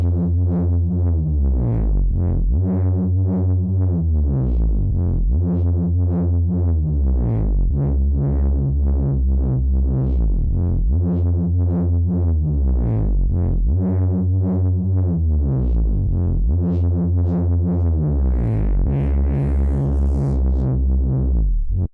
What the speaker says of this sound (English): here we are with UVI Falcon and we're going to start making a Reese bass